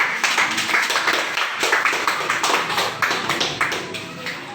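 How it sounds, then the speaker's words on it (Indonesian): Clapping from a small group or classroom greeting beginners, a close, uneven patter of hands at moderate loudness throughout, with no talking. "Tepuk tangan untuk pemula"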